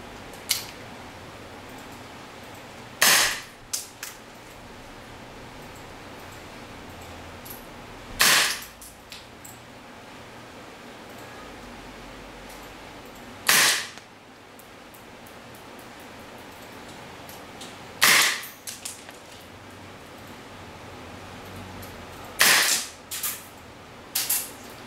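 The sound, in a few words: airsoft gun firing .2 BBs with CO2 cartridge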